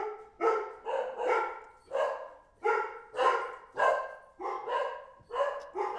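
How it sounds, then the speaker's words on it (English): Several dogs bark insistently in a steady, repeating rhythm of loud, close barks, with no voices over them. "Sorry for the dogs."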